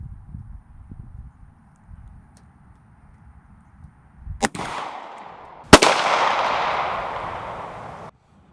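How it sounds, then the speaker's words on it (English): A 9mm Glock pistol fires at an engine block, with two sharp, loud shots a little over a second apart, the second followed by a long, noisy ringing decay before an abrupt cutoff. "moving up to our 9mm little Glock Cal. See if this can do anything."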